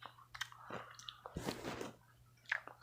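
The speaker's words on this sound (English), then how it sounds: "let me finish chewing" Jelly fruit candy being chewed close up: wet, squishy bites and mouth sounds in irregular bursts, fairly quiet and with no talking.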